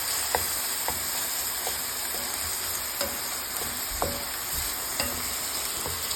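Stuffed peppers fry in a little olive oil, giving a steady close sizzle and hiss broken by regular light stirring taps about once a second.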